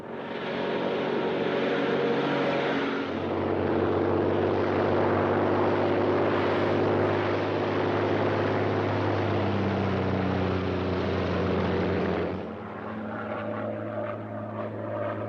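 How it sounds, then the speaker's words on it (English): A Royal Air Force propeller plane drones steadily in flight in a 1943 film, a loud, continuous engine hum that holds for about twelve seconds and then shifts to a lower, rougher tone, with no voices. "a Royal Air Force plane is waiting for us at a secret landing place"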